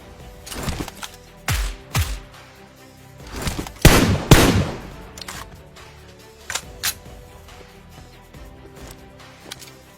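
Bursts of gunfire in the video game PUBG, a few sharp loud shots and short volleys spread irregularly, with one heavier cluster mid-way and quieter scattered reports after.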